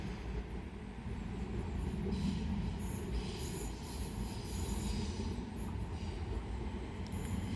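A London Northwestern Railway service from London Euston pulls into Tring station to terminate, with a steady rumble of wheels and brief metallic squeals, fairly distant and with no voices.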